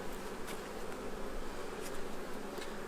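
Honeybees drone around an opened hive during a brood inspection, a continuous close buzzing with a few individual bees swelling louder as they pass near.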